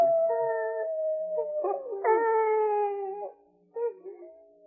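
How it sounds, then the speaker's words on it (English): A coyote howls in long, wavering rising and falling cries, a few drawn-out calls with a brief pause near the end, heard fairly close in a quiet setting. "I think it's that howling coyote that's bothering you"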